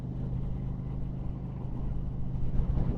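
A car's exhaust rumbles at close range with a steady low drone, revving slightly louder near the end.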